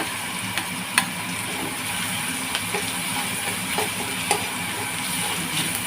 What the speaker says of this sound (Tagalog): Gisa-gisa tayo. Nagsabay ko na yung yung bawang at sibuyas.